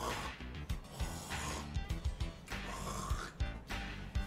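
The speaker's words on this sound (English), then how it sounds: "You snoring loud as fuck." A person snoring loudly, with repeated rough, rattling breaths and snorts at an uneven rhythm close up, heard alone without talk.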